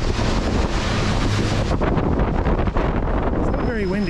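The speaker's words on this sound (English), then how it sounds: "you're not hearing too much of the wind" Wind blows across a microphone outdoors, a loud constant rumble and rush lasting throughout, with a voice starting to speak at the very end.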